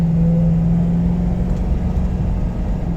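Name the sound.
2008 Ford Crown Victoria Police Interceptor driving on road test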